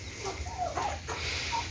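Farm chickens, including mini Cornish hens, cluck in short bursts close by, a few sharp calls rising over a low rumbling background with no talking.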